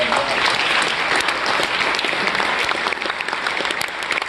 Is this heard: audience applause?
yes